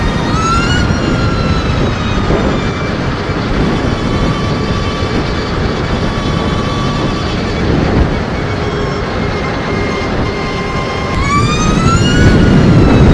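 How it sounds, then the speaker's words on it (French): An Energica electric motorcycle accelerates hard with a rising, whining electric motor tone that climbs and holds over loud rushing wind and road noise, then surges again near the end. "Ça, c'est de la moto."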